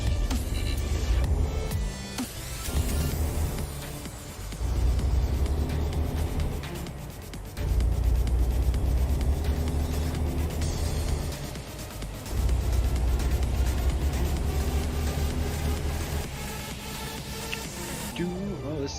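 A long-haul truck's engine rumbles and revs in repeated surges as it pulls onto an interstate, heard close from the cab with shifting pauses between pulls and someone talking over it.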